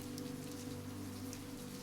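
Rain streams down tall floor-to-ceiling windows at night, a soft, steady patter with a gentle low hum beneath it. The sound is even and unbroken and has no voices.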